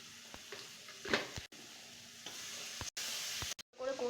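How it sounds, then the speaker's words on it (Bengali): Mutton being sautéed for kosha in a pan, intermittent sizzling and stirring bursts with short gaps and a few sharper scrapes, close and fairly quiet. "ভালো করে কষিয়ে নেওয়া হচ্ছে।"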